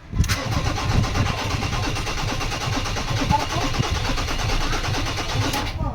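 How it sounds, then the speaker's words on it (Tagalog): A 2013 Ford Ranger engine that had been failing to start cranks and catches, then settles into a steady, close rumbling idle with a faint rhythmic chug throughout. "Engine start."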